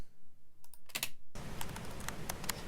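Typing on a computer keyboard while entering a password: a few faint clicks at first, then a denser run of close, crisp keystrokes over a room-tone hiss, with no talking.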